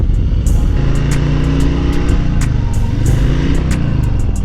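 A 2021 Harley-Davidson Low Rider S motorcycle engine runs at a steady, loud level throughout, its low rumble shifting slightly in pitch as the revs rise and fall, with faint clicks above.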